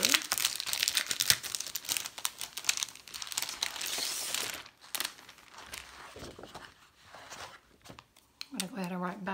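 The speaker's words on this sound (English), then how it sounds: "So first thing I'm going to do is cut the transfer." Scissors or a blade cut through a Chalk Couture silkscreen transfer sheet, giving crinkly plastic crackles and snips close to the mic, with a person speaking over the handling noise.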